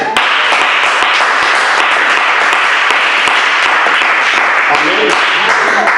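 A church congregation applauding and cheering to praise the Lord, sustained loud clapping filling the room for several seconds with voices mixed in.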